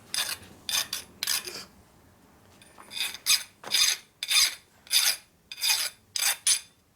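A hand file rasps across a metal part during a Harley Sportster XL 650cc single stroker engine build for land speed racing, with about ten separate close strokes, three quick ones, a pause, then a steady run.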